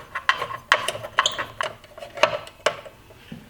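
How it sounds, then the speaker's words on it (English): Allen key unscrewing a bolt on a Bosch miter saw, a series of close, sharp metallic clicks and scrapes in an uneven rhythm, with no talk. "unscrew this bolt."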